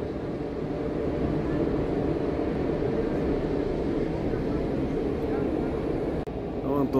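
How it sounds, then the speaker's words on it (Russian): A steady, heavy rumble of a train rolling past on a railway bridge, continuous and close, with a low droning roar throughout. "И поезд пошел, это на удачу"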